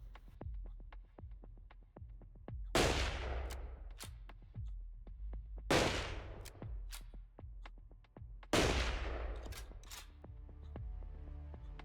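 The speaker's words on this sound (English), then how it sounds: "I'm just indiscriminately shooting people because someone told me to." Gunfire from shooting people in the video game Long Gone Days: a steady run of sharp single shots with three large booming blasts spread across the stretch, set over a low musical hum, with no talking.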